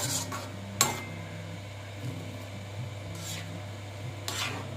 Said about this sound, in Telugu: బాగా కలుపుకోవాలి. కలుపుకొని ఒక 10 నిమిషాలు బెల్లం, పంచదార, రవ్వ బాగా కలిసేటట్టు ఉడకాలండి.